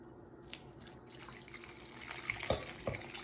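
Water poured into a package of tangerine orange fabric dye, a continuous splashing and trickling stream with a couple of brief louder drips near the end, close by with no talk.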